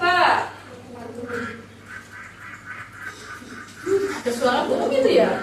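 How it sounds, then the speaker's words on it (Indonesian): Honking, duck-like bird calls repeat over an ongoing conversation, sometimes rising above the voices and sometimes fading beneath them. "Ada suara burung itu ya?"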